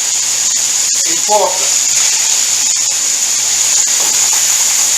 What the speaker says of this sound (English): I'm going to start frying the vegetables now.